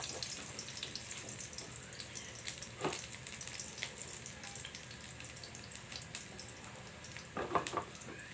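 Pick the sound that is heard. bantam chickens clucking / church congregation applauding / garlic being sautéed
garlic being sautéed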